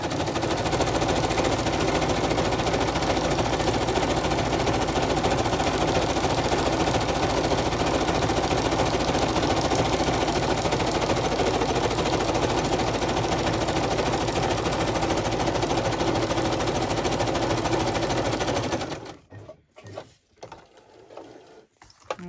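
A sewing machine stitches a journal trifold in one long, loud, steady mechanical whirr of rapid needle strokes, then stops abruptly near the end, leaving a few faint clicks.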